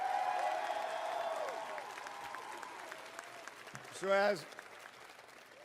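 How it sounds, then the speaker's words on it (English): Applause from an awards show audience in Las Vegas, a broad steady wash of clapping under a speaking voice and music, with a short sung or tonal phrase near the end. "I think you all deserve an unbelievable round of applause for that"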